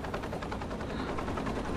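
Helicopter in the Takedown: Red Sabre game, a steady, loud rotor drone with rapid chopping pulses that fills the whole moment without any voices.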